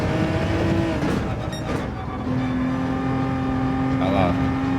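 A race car engine in the racing game Gran Turismo 7 drones steadily at high revs with tire squeal, the pitch dropping and then holding, while someone talks over it.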